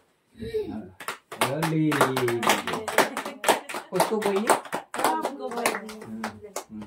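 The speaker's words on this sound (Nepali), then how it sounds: "उठ्ने हामी ताली लगाउने" Family members clap their hands at a birthday gathering, a steady run of sharp claps continuing under loud overlapping talk throughout.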